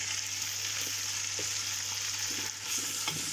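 Onions fry in a pan with a steady, soft sizzle and occasional light stirring scrapes, close and continuous with no talk.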